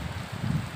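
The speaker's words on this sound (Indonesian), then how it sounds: "Tapi ini masih hujan." Rain falls steadily on Mount Sumbing as a soft, even hiss with a low rumbling wash, brief and uniform throughout.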